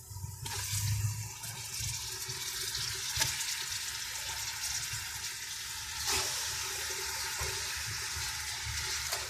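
Chicken pieces seasoned with black pepper powder sizzle and hiss steadily in a hot pan, a continuous broad frying noise with a few louder bursts as the meat is stirred, close and without any talking.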